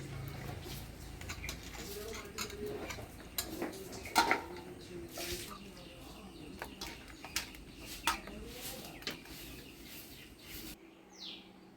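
Cut mango pieces are rinsed and lifted one by one out of water in a metal bowl, giving scattered close clinks and splashy knocks, with faint birdsong and a pigeon cooing in the background.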